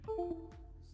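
A short computer device-disconnect chime of a few quick descending tones, faint and alone.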